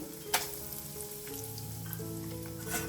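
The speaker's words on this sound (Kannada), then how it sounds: "ಇದ್ರ ಒಳಗಡೆ ಕಡಲೆ ಬೀಜನ ಹಾಕೋತಾ ಇದ್ದೀನಿ" Peanuts frying in hot oil in a pan, a steady close sizzle with a sharp crackle near the start and light stirring sounds, no talking.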